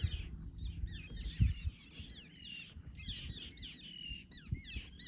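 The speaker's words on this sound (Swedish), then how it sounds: "Måsarna verkar mycket missnöjda med honom." Gulls call repeatedly in a Swedish coastal archipelago, sea kayaking setting: a busy overlapping chorus of sharp, descending cries at moderate distance, with low rumbling water and wind noise underneath.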